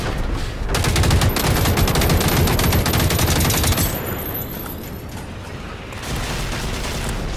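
Rapid automatic AK rifle fire in a video game, a loud sustained burst of dense shots for several seconds that then drops away to quieter rumbling and scattered noise.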